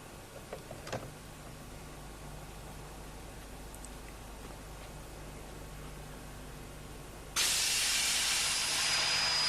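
A low steady hiss and hum runs for several seconds, then a loud rush of air escaping from a locomotive-hauled train's automatic brake pipe, through the open cock at the rear of the last vehicle, keeps blasting steadily to the end.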